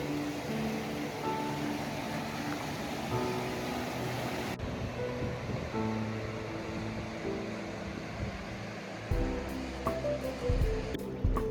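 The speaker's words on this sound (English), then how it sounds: "And there's the rapids flowing underneath." River rapids in Belogradchik, Bulgaria, rush under a road bridge as a steady broadband roar of flowing water, loud and continuous, with a sudden shift partway through and faint clicks near the end.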